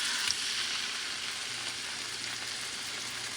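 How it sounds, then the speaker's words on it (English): Pork shoulder searing in avocado oil in a hot pan gives a steady, close, bright sizzle and crackle that holds evenly for a few seconds with no talk. "add a bit of oil, and I'm going with avocado oil this time around, and sear the pork"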